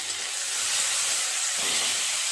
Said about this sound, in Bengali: পেঁয়াজটা কিছুটা ভাজা ভাজা হয়ে গেছে, দিয়ে দেবো টমেটো আর দুটো কাঁচা লঙ্কা।